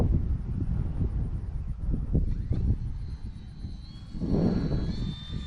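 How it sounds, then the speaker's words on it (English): FT Freedom Fox RC airplane in flight outdoors, a steady electric motor whine with a thin high tone over constant wind rumble on the microphone, swelling slightly louder toward the end. "Yeah, it's a fun little plane to fly."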